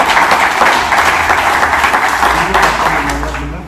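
A church congregation applauds and cheers for Jesus Christ in a dense, loud burst of clapping and voices that holds steady, then tapers slightly at the end.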